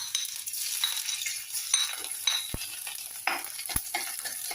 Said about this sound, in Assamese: এয়া নহৰুটো দিছোঁ দেই তেলত